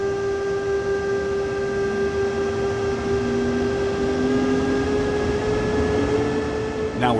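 Electric locomotive in Train Sim World 2 (DB BR 146.2 on the Main Spessart Bahn) pulling away from a stop, a steady electrical whine and motor hum over rumbling rolling noise, with tones rising faintly as it gains speed.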